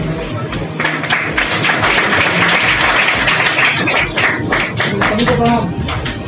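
Crowd applause at a political rally in Bihar, sustained loud clapping with a dense, even texture and a speaker's voice carrying over it throughout.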